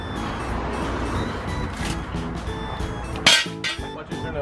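A Yamaha YXZ 1000 side-by-side fitted with a new Alba Racing clutch starts moving, its engine running in a steady mid-pitched drone, with a sharp metallic clank near the end.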